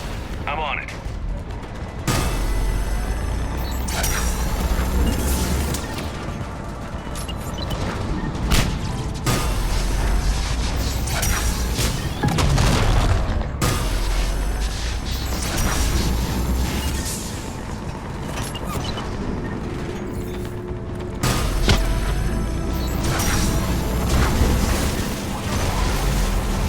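Heavy cannons powering up and firing in the video game Mass Effect 3, with booming blasts, mechanical whirring and repeated shots across the battle, under intermittent voices.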